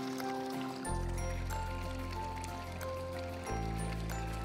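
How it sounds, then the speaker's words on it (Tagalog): Nutrient solution poured slowly into a pepper plant's hydroponic reservoir, a steady trickling stream of liquid with a low filling rumble that swells after the first second and continues without pause. "Kaya dahan-dahan yung pagdagdag ng nutrient solution"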